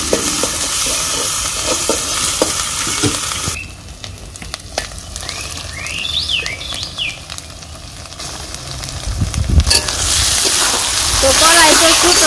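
Ginger paste and chopped onion hit hot oil in a village kitchen karahi, giving a loud sizzle and frying hiss with stirring clatter, a quieter stretch in the middle, then a strong sizzle again.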